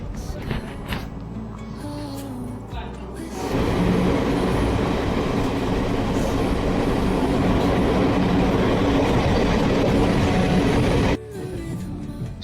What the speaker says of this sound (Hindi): तो हम लोग अब मेन लाइन में आ चुके हैं और हमारी ट्रेन जौनपुर की तरफ डिपार्चर कर गई है